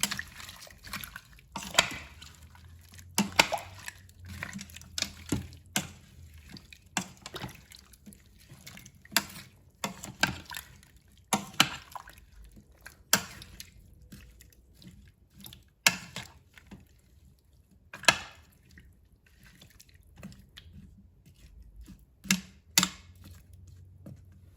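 Vegetable beef soup ingredients being stirred together in an Instant Pot, with irregular wet clinks and scrapes of the utensil against the pot, fairly close, without talk.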